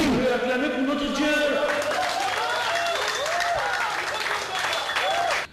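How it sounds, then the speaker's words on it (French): A church congregation claps and cheers together, sustained applause filling the room for several seconds with voices rising over it, loud and close until it cuts off at the end. "Vous pouvez acclamer pour notre Dieu."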